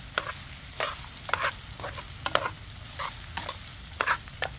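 Chopped celery, carrots, onions and fresh sage frying in butter for turkey stuffing, stirred with repeated scraping strokes over a constant close sizzle, no talking.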